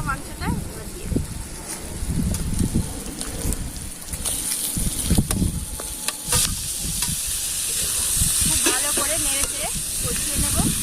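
Turtle meat tossed into a spice paste and stirred in a pan, with a steady sizzle and frying hiss under repeated scraping and clattering stirs, while a person talks over it.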